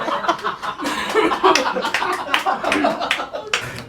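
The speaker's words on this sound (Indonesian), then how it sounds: "Tepuk tangan buat buat Tito Tolol" A comedy show audience claps steadily with scattered chuckles and laughter mixed in, a dense patter of hands throughout.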